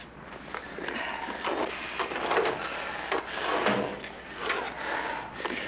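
A drawer is yanked open and rummaged through in a hospital emergency scene, a run of wooden scrapes, clunks and rattling knocks over several seconds, close and fairly loud.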